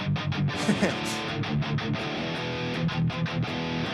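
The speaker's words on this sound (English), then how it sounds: "2 of the most common chord progressions ever is 1, 5, 6, 4, which sounds like this." Electric guitar strumming through a I-V-vi-IV chord progression, steady rhythmic strokes at moderate volume, with no talking.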